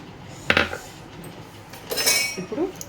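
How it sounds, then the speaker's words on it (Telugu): A spoon mixing gram flour into yogurt in a bowl, heard as a sharp clink followed by a burst of scraping and stirring, close and fairly loud with no voices. "దీంట్లోనే ఒక రెండు స్పూన్లంతా శనగపిండి కలుపుతాను"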